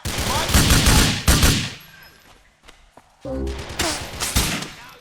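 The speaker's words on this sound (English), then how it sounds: "I was getting shot at by someone I just couldn't see" Bursts of rapid automatic gunfire in Grand Theft Auto IV, loud close volleys at the start, a brief lull, then renewed heavy firing toward the end.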